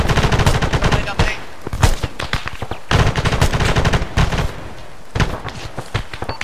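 Gunfire in the military video game ArmA, rapid bursts of automatic fire in quick, dense volleys with short pauses between them, loud and close throughout.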